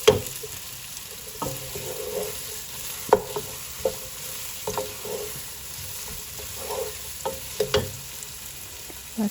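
Ginger, garlic, shallots and onions sauté in a pan for a mutton curry, giving a steady close sizzle under repeated scrapes and clinks of a stirring spoon.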